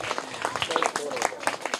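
Young children in a classroom clap for a correct quiz answer, a brief burst of uneven hand claps with voices talking over it.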